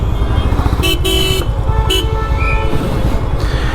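Two short car horn blasts sound close by over a loud engine rumble in Patna traffic, then a few fainter honks in the distance.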